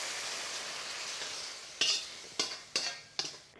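Chili sauce boils hard in a clay pot, giving a steady bubbling sizzle that fades slightly, then four sharp hissing bursts close by, with no one speaking.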